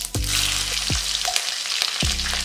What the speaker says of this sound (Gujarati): રાઈ સરસ રીતે સંતળાઈ જાય એટલે આપણે લીલા મરચાં એડ કરીશું